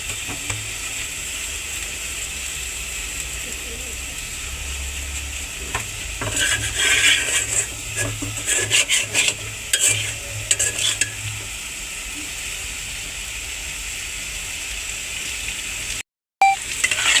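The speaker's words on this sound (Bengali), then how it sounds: "আমি এটা ভালো মতো নেড়ে চেড়ে দিচ্ছি ভালো মতো কষানোর জন্য" Red lentil dal (masoor dal bhuna) fries in a pan with a constant close sizzle, while a spoon scrapes and stirs in a busy run of strokes through the middle, then the sizzle continues alone.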